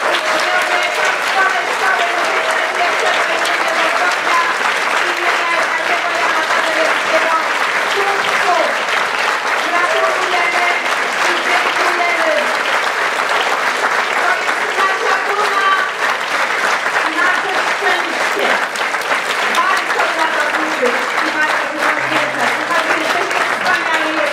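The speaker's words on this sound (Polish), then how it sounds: "proszę Państwa, wielkie brawa" A school music concert audience claps in a sustained, dense round of applause filling the hall, steady and loud throughout with a faint voice underneath.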